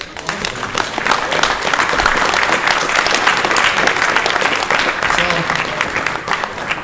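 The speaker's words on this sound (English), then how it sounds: "but let's have a round of applause." Sustained audience applause fills a hall at a video game hall of fame awards ceremony, dense and steady for the full stretch with no break, loud and close.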